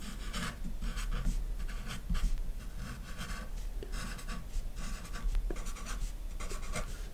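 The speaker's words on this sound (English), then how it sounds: "So now let's write down this part first." Pen or pencil writing out a math calculation on paper, heard as close, scratchy strokes in short repeated bursts with brief pauses between them, and no voices.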